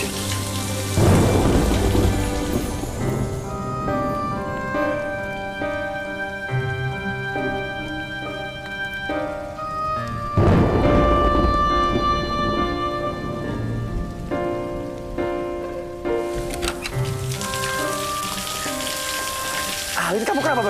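Heavy rain pouring steadily with two loud, close thunder crashes rumbling out, while tonal music plays along underneath.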